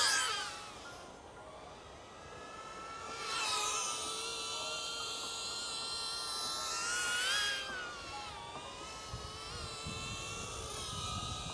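A DJI Neo 2 drone flying fast in sport mode gives a steady high-pitched propeller whine whose pitch sweeps up and down as it speeds and turns, loud and continuous throughout.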